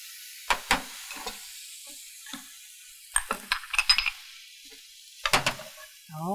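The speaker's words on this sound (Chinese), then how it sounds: "然后慢慢炒，慢慢炒哈，炒到这个绞肉哈大概能够松散" Ground pork with shiitake mushrooms and bamboo shoots is stir-fried in a pan, with scattered scraping and clattering spatula strokes over a faint, low sizzle, nearby and intermittent, with no talk.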